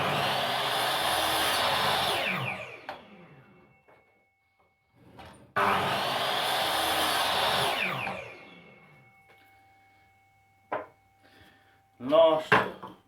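Hikoki 216mm 8 1/2 inch sliding mitre saw with fixed rails cutting plywood: two loud bursts of motor whine with the blade biting through the board, each spinning down, then a few knocks and clatters.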